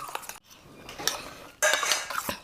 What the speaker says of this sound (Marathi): तर चला मिक्स करून घेऊया आपण हे.